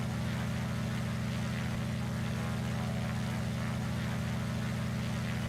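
A steady, loud low engine drone hums without a break as an airplane is pushed back on an airport runway in the video game ARMA 3. No voices are heard.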